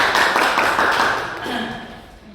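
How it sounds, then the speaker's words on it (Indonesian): A class of students claps for everyone in a university teaching-practice session, a short burst of dense applause that fades after about a second and a half. "tepuk tangan untuk semuanya"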